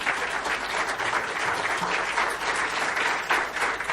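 Audience at a political gathering applauding for a young woman, an even, continuous burst of clapping from a crowd, fairly loud and unbroken.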